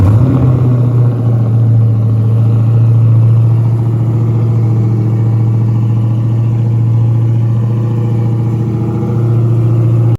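A supercharged Dodge Demon engine idles after a cold start, a loud, close, steady low rumble with a constant drone, holding its level throughout.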